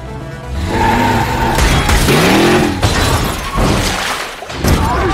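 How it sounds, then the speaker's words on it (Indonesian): A car smashes its way out of a hiding spot, with loud crashing and breaking debris over a roaring, pitch-sweeping engine, the impacts coming in bursts across several seconds. "Vic pun menyalakan mobil tersebut untuk menerobos keluar"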